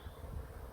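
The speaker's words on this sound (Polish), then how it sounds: "Zwijamy się, bo pszczoły się mną za bardzo interesują." Honey bees buzz close around a beekeeper at an apiary, a faint low droning hum that wavers over a very short moment.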